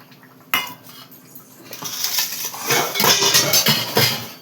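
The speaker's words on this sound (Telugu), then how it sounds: "ఇది మనం క్లీన్ చేసేసుకుంటాం." Cooking pots and utensils being cleaned: quiet at first, then a sharp clank, followed by growing scraping, clinking and metallic rattling of pans and cutlery that is loud and close near the end.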